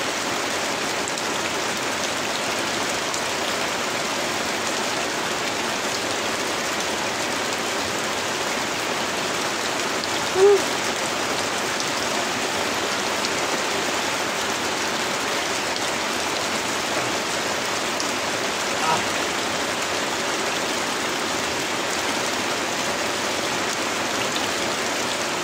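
Steady rain falling, an even dense hiss of drops on surfaces with no talking, constant and enveloping throughout.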